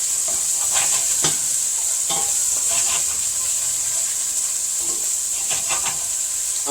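Fresh garlic and spices sizzling in a hot pan, a steady close hiss with intermittent scraping and clinking as the mixture is stirred.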